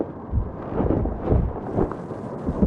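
Thunder from a storm outside rolls in low, deep rumbles that swell and fade several times, with a faint hiss of rain and no speech.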